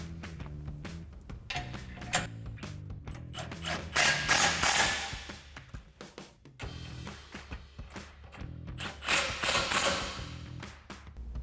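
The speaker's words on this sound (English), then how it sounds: "we're going to go ahead and tighten these 2 bolts down with our 16mm socket" A ratchet with a 16mm socket tightening the mounting bolts of a DV8 Offroad rear bumper on a 2022-2024 Toyota Tundra, rapid clicking pawl ratchets in repeated bursts close by, with creaks and taps between strokes.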